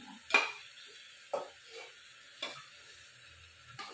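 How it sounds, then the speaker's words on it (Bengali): Mutton pieces go into fried onions in a pan for mutton curry, giving a quiet, low sizzle broken by four sharp spatula scrapes about a second apart. "এই দেখো পেঁয়াজগুলো লাল লাল হয়ে গেছে, তো এবার আমি মাংসগুলো দিয়ে দেবো।"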